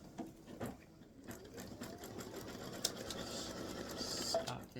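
A sewing machine satin stitching an appliqué on a patriotic baseball bat and stars quilt block, a steady fast mechanical whir running throughout at moderate volume.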